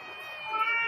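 A small cat gives a single short meow, close and clear, rising slightly in loudness toward its end.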